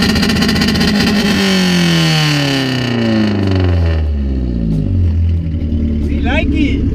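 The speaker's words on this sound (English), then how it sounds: "The exhaust is leaky as fuck, has no catalytic converter" A loud BMW E36 Compact with a modified ECU, no catalytic converter and a leaky exhaust revs high and then drops, its pitch sweeping steadily downward as it settles. The engine is close and harsh, with voices faintly underneath.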